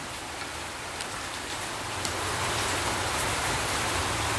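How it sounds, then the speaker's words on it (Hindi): Steady rain falls outdoors during the rainy season, a dense, even hiss of drops on surfaces that swells slightly louder midway and holds without pause. "हमारा यहाँ पे बारिश गिर रहा है"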